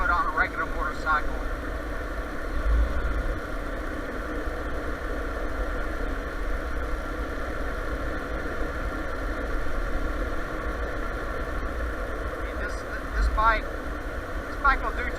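A Yamaha TW200 motorcycle engine drones steadily while riding on gravel, a mid-pitched continuous hum with occasional surges, heard under wind and a talking rider.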